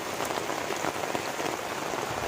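Steady rain pours down in a pine forest area at dawn, a dense, even hiss of drops on surfaces with no voices, constant and close throughout.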